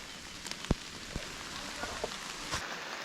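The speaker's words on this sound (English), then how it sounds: "it's raining again, still, whatever." Steady light rain patters outdoors near a creek, a faint continuous hiss with a few sharper drop hits and soft knocks, no talking.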